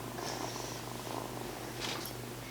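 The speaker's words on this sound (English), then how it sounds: "look at this kitten in my lap" A kitten purrs while lying in a person's lap, a close, soft, continuous rumbling purr with faint rustling and no speech.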